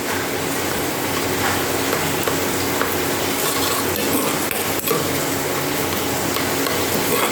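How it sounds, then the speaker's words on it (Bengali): Cooked sour mango chutney with soft boiled mango being stirred in a pot, a steady dense rustling wash with faint scrapes and one brief knock near the end. "একটু ভালো করে ঘেঁটে দেবো।"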